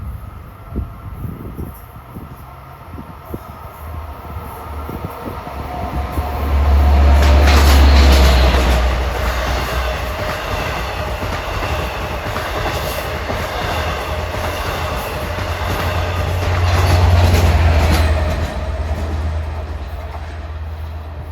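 A Long Island Rail Road M9 train on a triple-track line passes loudly and close, its rumble swelling twice over a long run of rolling wheels, clickety-clack rhythm and rail noise.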